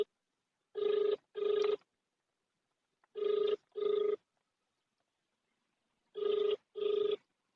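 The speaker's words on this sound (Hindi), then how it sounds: "फोन रिंग हो रहा है लेकिन नो रेस्पॉन्स।" A telephone rings unanswered in three pairs of double rings, each pair separated by a few seconds of silence, clear and fairly close with no voices.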